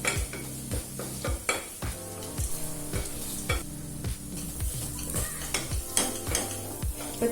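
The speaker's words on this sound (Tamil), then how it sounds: "1 நிமிஷம் வரைக்கும் நல்லா வதக்கிக்கலாங்க. சிக்கன் மசாலா 1 மட்டும் போட்டா போதும்" Chicken masala powder stirred and sautéed in a pressure cooker, with repeated rhythmic scraping and clanks of a spoon against the metal pot over a constant sizzle, close and fairly loud throughout.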